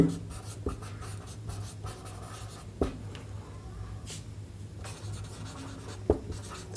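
Marker or chalk writing on a board during a Bengali trigonometry lesson, a few scratchy strokes with sharp taps against a low steady room hum.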